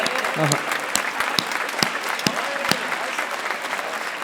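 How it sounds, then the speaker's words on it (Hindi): An audience applauds at a Hindi recitation, with a thick continuous patter of clapping and a few sharper individual claps standing out, while voices carry faintly underneath. "आपकी तालियां कमजोर है"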